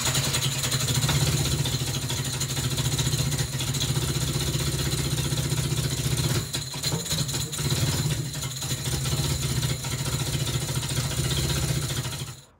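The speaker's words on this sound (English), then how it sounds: "the engine actually started running and kept running" The engine of a 1975 Mercedes 280SL with new fuel injectors runs roughly and steadily at close range, briefly dipping midway before settling back into its uneven idle.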